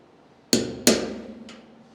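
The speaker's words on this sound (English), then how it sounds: "Instead of the old caveman way with a hammer and a chisel." Two sharp metallic taps close together, then a fainter third strike, like a hammer hitting a chisel, each ringing briefly.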